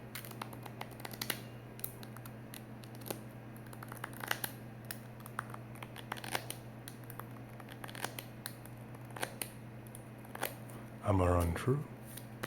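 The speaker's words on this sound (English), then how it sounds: "as big as my hands are, it's still a bit much handling all these cards" Cards from a 99-card Magic: The Gathering elf deck are handled close up, producing light repeated flicks, taps and soft shuffling. A voice talks quietly over the card sounds, and there is a brief louder rustle near the end.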